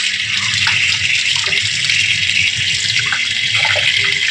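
Tap water runs steadily as a whole fish, katla, is rinsed for a curry, a continuous broadband splash and hiss that stays loud throughout with small clinks of handling underneath.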